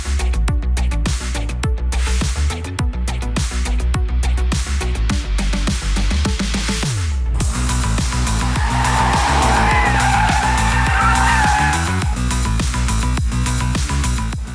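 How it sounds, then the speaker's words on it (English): A BMW M340i with a 382-horsepower 3-liter straight-six and all-wheel drive driven hard on a race track: loud, close engine roar with rapid gear shifts, revving rising and falling, then a sustained tire squeal as the car slides. "With 382 horses from its 3-liter straight-six engine and the power put down by all four wheels"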